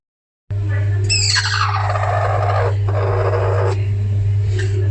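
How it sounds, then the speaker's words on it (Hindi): A broody hen gives drawn-out squawking, clucking calls over a constant low hum, several calls in succession after a brief silence at the start. "मुर्गी कुड़ुक हो चुकी है, आपको इसकी आवाज़ से महसूस हो रहा होगा।"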